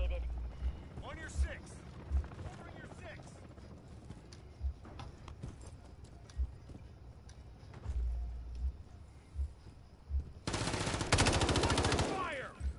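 Gunfire in the Modern Warfare 3 video game, a team deathmatch round: scattered single shots and short automatic bursts throughout, with a dense, loud stretch of rapid fire near the end and talking mixed in.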